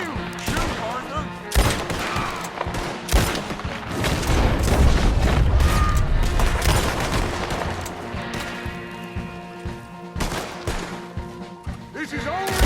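A shootout in Red Dead Redemption 2, loud repeated gunshots and rifle cracks with booming impacts, dense in the middle and sparser toward the end, with voices shouting among the fire.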